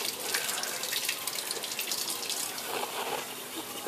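Potatoes are rinsed under a running kitchen tap, a steady soft hiss and splash of water with slight fluctuations as the flow hits the potatoes, faint and alone without talk.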